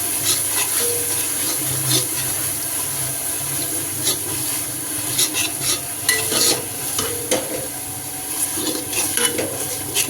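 Ingredients for green peas rice sauté in a pan over a low flame, with a constant sizzle. A spoon stirs and scrapes close by, and splashes and a watery hiss come through now and then, with no speech.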